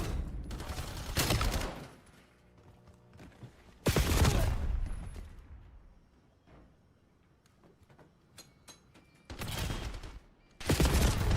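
Video game gunfire comes in loud, dense bursts of rapid shots separated by quieter stretches of faint background noise.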